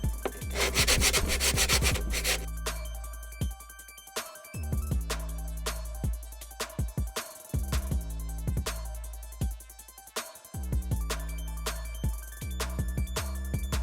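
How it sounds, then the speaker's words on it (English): Hand sanding with 180-grit sandpaper while fitting a strobe light into a Crown Vic tail light, a series of rhythmic rubbing strokes repeating close by. "180 sandpaper"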